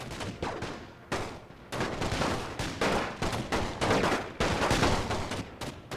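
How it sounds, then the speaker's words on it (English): Sustained gunfire at a house in a World War I video game: dense volleys of rifle and machine-gun shots, loud and continuous with short gaps, rolling in bursts across the battlefield. "they're firing all the way over here at this house"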